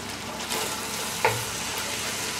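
Black Angus beef sears in a pot with a steady, close frying sizzle, broken by a single brief clink partway through.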